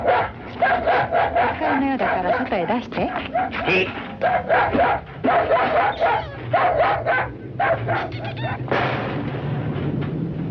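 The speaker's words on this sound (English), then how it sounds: "tell him to take that howling mutt with him" A dog gives a loud, near run of barks, yips and drawn-out cries in uneven bursts, mixed with people talking.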